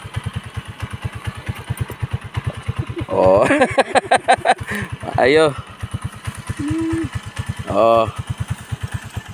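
A customized motorcycle converted into a tractor idles nearby with a rapid, even engine chug, punctuated by a few loud revs, while a voice calls out briefly.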